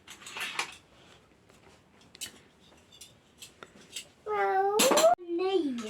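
Dishes and cutlery clink and clatter close by as they are gathered up, in scattered bursts, while a voice rises over the clearing near the end.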